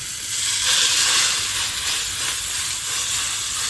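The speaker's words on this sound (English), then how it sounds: "You see, there is a sizzle." Loud, continuous sizzling of a ribeye steak searing in a hot pan, a dense crackling hiss with no voices.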